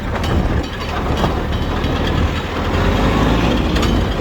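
A Kubota GL21 four-wheel-drive Japanese mini tractor drives over rough ground, its engine giving a steady, loud rumble with rattling and clanking, heard close and alone without talk.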